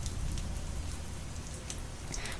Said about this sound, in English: The rain's coming down hard.